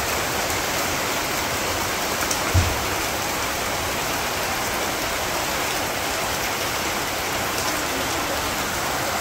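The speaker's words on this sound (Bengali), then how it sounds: "মোটামুটি ভালোই বৃষ্টি হয়েছে" Steady rain falls on a Bangladeshi village on a morning, a dense even hiss of drops throughout with a single soft knock early on, no voices.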